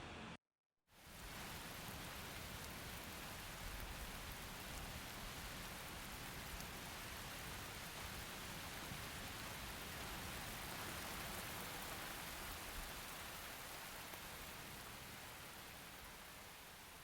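Steady rain falls outdoors on a last day of travel, a dense, even hiss that starts abruptly after a brief silence and holds without pause, with no voices over it.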